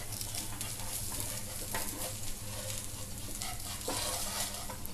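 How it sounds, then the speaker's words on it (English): Crispy semolina rava dosa roasting on a hot pan over a medium-high flame, a steady sizzle broken by scraping strokes of a spatula across the surface, close and alone. "By keeping the flame in medium high, we have to scrape the dosa like this."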